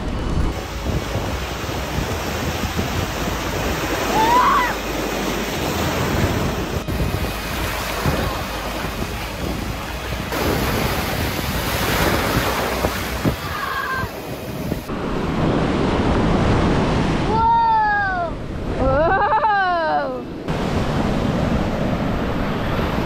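Ocean surf washing onto a long beach, a steady broadband rush of breaking waves mixed with gusty wind noise on the microphone, with a few brief higher chirping sounds near the end.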